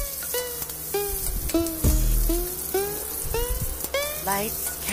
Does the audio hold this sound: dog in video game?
no